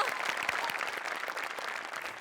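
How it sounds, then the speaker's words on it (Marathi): An audience at a Marathi comedy show applauds in a steady, dense burst of clapping that fills the whole short stretch, with faint voices underneath. "क्या बात, जोरदार टाळ्या."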